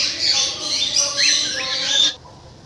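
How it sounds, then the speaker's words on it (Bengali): Birds, parrots among them, squawk and chirp loudly and close by in the aviary of a mini zoo in Baruipur, a continuous harsh chorus lasting about two seconds before breaking off abruptly. "দেখতে পাবেন এরকম কত পাখি, টিয়া পাখি, আরও অনেক রকম পাখি রয়েছে।"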